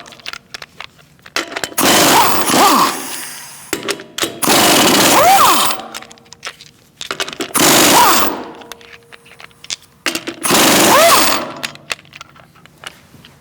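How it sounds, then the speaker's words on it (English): Pneumatic impact gun removing lug nuts from a Chevrolet Cruze front wheel, four loud rattling hammering bursts of about two seconds each, close, separated by quiet pauses. "Now we're going to remove our lug nuts."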